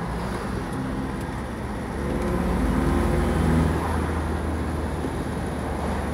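A 1989 Isuzu Trooper (BigHorn UBS-55), right-hand drive, accelerating: a steady low engine drone with road and wind roar that swells slightly midway, heard from inside the cabin without talk.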